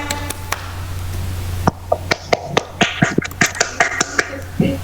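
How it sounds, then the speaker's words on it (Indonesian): A short burst of sharp claps from a few people applauding children during a lesson, uneven and close, coming after a stretch of steady background hum. "Tepuk tangan dulu untuk anak-anak"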